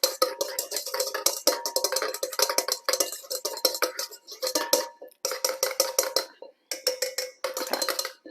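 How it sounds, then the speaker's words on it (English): A wire whisk beats egg mixture in a bowl for peanut butter cookies, quick rhythmic metallic clinks and scrapes in short bursts with brief pauses, close and clear. "I'll take my whisk and just make sure it's all mixed together"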